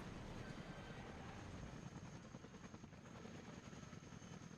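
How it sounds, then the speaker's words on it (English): A helicopter's rotor and engine drone steadily throughout in the video game WARNO, a dense, continuous roar at low volume with no voices. "Really nice looking helicopter."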